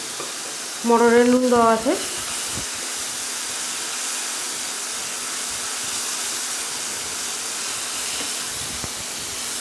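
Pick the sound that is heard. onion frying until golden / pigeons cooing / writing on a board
onion frying until golden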